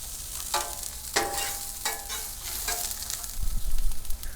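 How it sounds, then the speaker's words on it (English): Grilled onion sizzles on a hot two-burner grill with a steady crackling hiss, broken by several sharp spatula scrapes and a low rumble toward the end. "Drive my neighbors crazy with that grilled onion."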